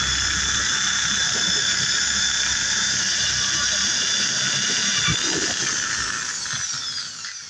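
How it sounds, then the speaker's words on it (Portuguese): A high-pitched electric drill with a thin bit whines steadily as it bores a pilot hole through a wardrobe cabinet for a lock, a loud continuous buzz that winds down slightly near the end. "Agora eu vou usar uma broca fina para fazer o furo para ser o guia da broca grossa"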